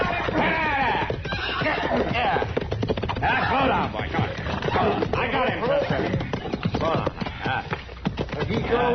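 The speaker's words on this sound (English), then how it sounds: "That's a runaway horse, Chester." A runaway horse whinnies repeatedly amid hoofbeats and commotion in a radio drama, with voices mixed in; loud and close, the neighs rising and falling over several seconds.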